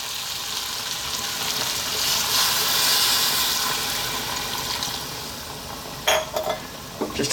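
Hot water poured into a pot of simmering Jamaican curry chicken gives a steady, fairly loud sizzling and bubbling wash that swells and eases, ending with a few sharp clinks and stirring knocks.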